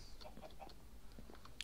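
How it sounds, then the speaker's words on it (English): A chicken in a hardcore survival video game clucks in a few short, quick bursts over a steady low game background, with no talking. "How'd you get out there, chicken?"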